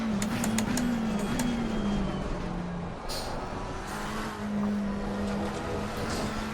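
McLaren 720S GT3 Evo race car engine in Assetto Corsa Competizione, a steady loud in-car drone that drifts in pitch through gear changes and throttle shifts, with no talk.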